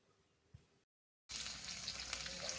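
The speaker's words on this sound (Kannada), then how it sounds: "ಈರುಳ್ಳಿ ಹಾಕ್ಕೊಂಡು ಚೆನ್ನಾಗಿ ಫ್ರೈ ಮಾಡ್ಕೋಬೇಕು" Onions, chana dal, urad dal and cumin frying in oil: quiet room tone with a faint knock, a brief silent gap, then a sudden loud, steady sizzle that continues to the end without talking.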